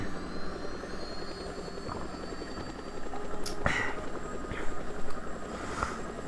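A helicopter lifting off in Just Cause 2, its engine drone and rotor whine holding steady and swelling slightly toward the end, along with a few sharp game effects and no speech.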